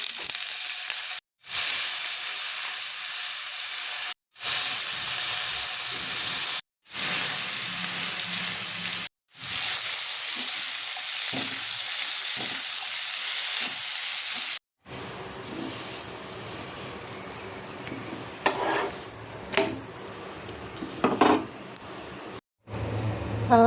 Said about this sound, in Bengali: পরোটাটা দিয়ে খাওয়ার জন্য আমি একটু মশলা আলু ভাজা বানিয়ে নেব।